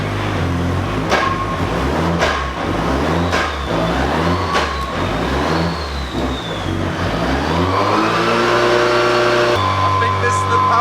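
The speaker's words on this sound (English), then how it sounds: "I think this is the power run." A Nissan SR20-swapped Mazda MX5 NC on a dyno doing a power run, the engine revving up repeatedly in loud rising pulls before climbing hard to high revs near the end.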